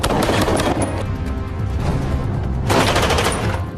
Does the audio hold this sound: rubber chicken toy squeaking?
no